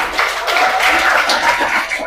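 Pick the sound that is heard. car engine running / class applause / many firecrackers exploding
class applause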